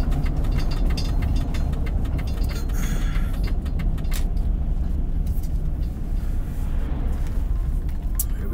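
A truck engine idles steadily in the lot of a Petro truck stop, a loud continuous low rumble with a few faint clicks and rattles over it, and no talk.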